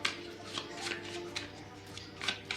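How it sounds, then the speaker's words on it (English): A deck of upgrade cards for a board game being shuffled by hand, a run of soft riffling bursts close to the microphone over a low steady background hum. "I'm also gonna shuffle and choose 3 random upgrade cards"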